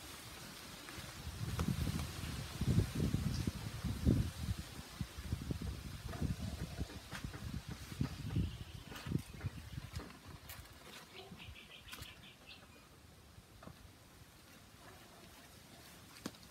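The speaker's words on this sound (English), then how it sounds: "Have you guys noticed how often it's windy here?" Wind gusts buffet the microphone as a low, uneven rumble, fairly quiet, with faint rustling and a few light ticks.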